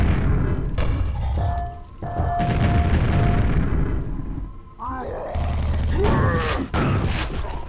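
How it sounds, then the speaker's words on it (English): A grenade blast in Quake booms loudly, mixed with rumbling mechanical creaks and thuds of the level machinery over several seconds of dense, continuous game noise. "Let's put a grenade up there."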